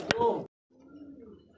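Tiger racer pigeons cooing softly in a low, rolling murmur that follows a short burst of someone talking nearby.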